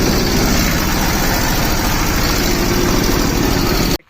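A 15 horsepower tractor engine idles steadily in a field, a loud continuous low rumble with rapid chugging pulses that holds evenly for about four seconds before cutting out abruptly.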